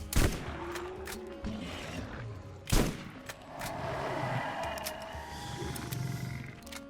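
Rapid gunfire from a weapon in Borderlands that sends its bullets out in a line, crackling in bursts over a steady game background, with two sharper loud shots standing out.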